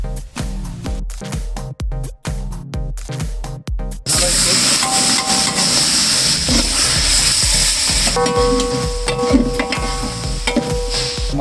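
Masala with cumin powder and salt sizzles steadily in a pan after a few sharp rhythmic taps at the start, the frying hiss loud and continuous throughout.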